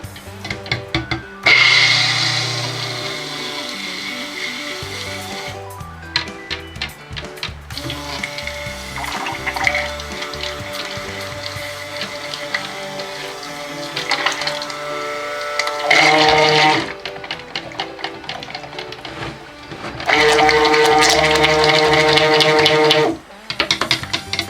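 Lye water and oils for green-apple cold process soap are mixed in loud bursts of a whirring, liquid churn, broken by quieter stretches of faint clatter and handling.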